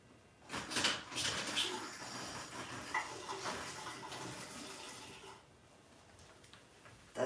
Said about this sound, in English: Doesn't sound good, but there's water coming out.